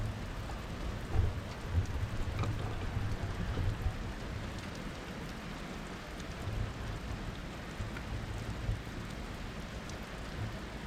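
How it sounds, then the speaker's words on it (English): Steady rain and raindrops pattering on surfaces outdoors beside a river, a continuous close hiss with scattered heavier drops and a low rumble underneath, no talking. "It is kind of nice to just listen to the sound of the raindrops."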